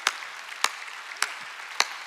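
In a church during a Sunday worship service, four sharp, evenly spaced hand claps ring out at a slow pace, each one distinct against a quiet room.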